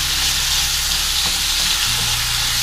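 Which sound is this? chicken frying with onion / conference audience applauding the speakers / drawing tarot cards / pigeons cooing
chicken frying with onion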